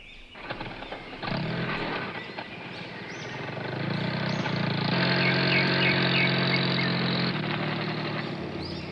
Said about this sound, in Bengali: এবড়ো খেবড়ো অসমতল পথে 4 হুইল ড্রাইভ জিপ ওদের জায়গায় পৌঁছে দেয়।